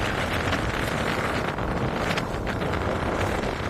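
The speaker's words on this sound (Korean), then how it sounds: "너무 세찬 바람 소리에 모든 것이 묻힐 정도" Strong coastal wind on the Jeju shoreline at Jocheon during a snowstorm, a loud, dense roar buffeting the microphone without pause for the whole stretch, with no voices.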